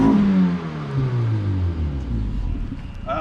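An old car's engine revs up from idle, its pitch rising and then settling into a steady, rumbling run, heard up close with no one talking over it.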